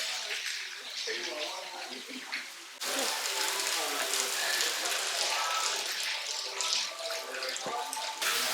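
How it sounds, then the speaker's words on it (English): Water pours from a rain shower head in a Costa Rica lodging, a steady hissing splash that jumps louder partway through and continues evenly while people talk over it. "Where does the water come from? Oh, I see it. It's gonna waterfall from right there."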